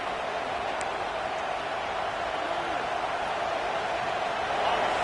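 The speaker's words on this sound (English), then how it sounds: "listen to this crowd noise. This stadium is vibrating." A packed Penn State football stadium roars with a dense, continuous wash of crowd noise at a distance. The sound holds at a steady level and swells slightly near the end.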